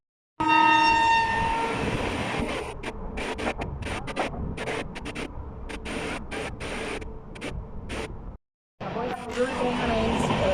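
A Jan Shatabdi Express passenger train rumbles past close by, horn blaring at the start, wheels clattering over rails with a continuous roar and a brief drop-out near the end.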